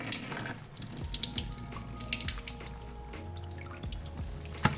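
Tap water running steadily into a sink while raw pork is rinsed, a close, continuous splashing flow with small clatters and shifts in the stream, and no talking.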